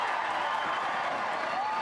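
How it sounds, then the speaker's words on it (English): Crowd noise at Spruce Meadows show jumping, a steady wash of cheering and applause from a large outdoor audience, moderately loud and continuous throughout. "the horse picked up his pace just right then when the crowd started to cheer"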